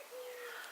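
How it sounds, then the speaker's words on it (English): Starlings chattering and squabbling outdoors, a thin whistled call rising over a faint, airy background at a moderate distance, brief and continuous. "They're very squabbly at those starlings, aren't they?"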